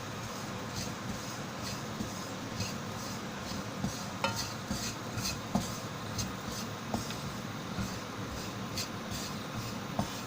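Flour is stirred in a pan for a vegetable au gratin, producing faint, scattered scraping ticks over a steady soft hiss.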